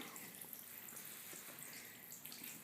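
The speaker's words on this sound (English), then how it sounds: "Nice little controlled stream of water there the whole length of the bar" Water runs in a steady, even stream along the full length of the spreader bar on a homemade lawn tractor Zamboni, a continuous soft hiss with no speech over it.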